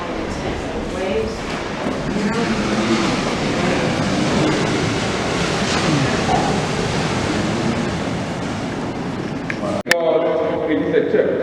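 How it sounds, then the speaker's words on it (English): Strong, intense ocean waves crashing on a shore, a loud continuous roar of surf with no breaks, ending in a sudden cut and a brief quieter moment. "Literally, your waves, they're so strong and intense. The waves,"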